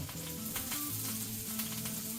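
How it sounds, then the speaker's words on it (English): Chipotle lime shrimp sizzle and crackle steadily in a pan, with low tonal music in the background. "I hear it. I hear it sizzling."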